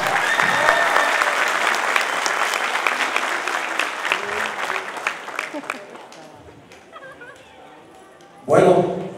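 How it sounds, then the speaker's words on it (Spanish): Audience applause honoring a teacher at the opening of an international dance festival, strong dense clapping that thins and fades, then a brief loud burst near the end. "La profe se merece otro aplauso"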